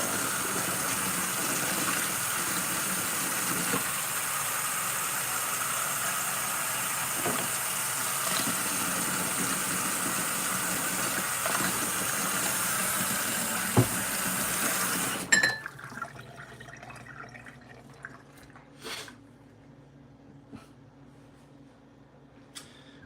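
Tea pours through a strainer in a steady, close liquid rush lasting about fifteen seconds, then stops abruptly, leaving faint clinks and quiet room noise.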